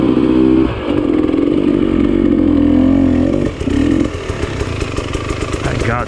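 Enduro dirt bike on a hard enduro training ride, its engine loud and close, revving up and down with throttle blips and clattering over rough ground, a voice briefly talking over it.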